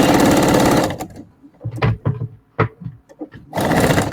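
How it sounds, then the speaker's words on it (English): Sewing machine running a burst of top stitching on a bow cozy, a steady dense whir that starts loud, stops near one second, then resumes at the end after a gap with scattered handling clicks. "And top stitching, top stitching."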